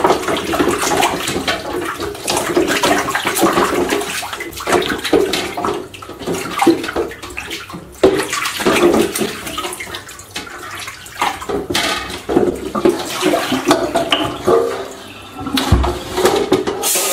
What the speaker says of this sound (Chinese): 我们首先把猪骨、牛骨清洗干净，这个只要把这个血水洗干净就可以了。